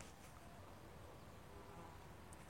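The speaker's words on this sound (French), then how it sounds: "Sauf que là, il y a un énorme nid de guêpes." Wasps around a huge ground nest dug into soil beneath wood in a permaculture garden, giving a faint, steady insect buzz that runs throughout with no speech.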